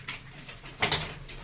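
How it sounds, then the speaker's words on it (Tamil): Pigeons of several kinds kept in a decorative cage coo softly, with a couple of brief, louder bursts near the middle against a faint, steady background hum. "எல்லா வகையான புறா இருக்குது."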